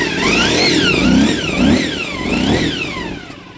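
A Honda VF1000R barn-find motorcycle, not quite running on all four cylinders, revs loudly close by, its engine note rising and falling in repeated swells over a rough, uneven idle.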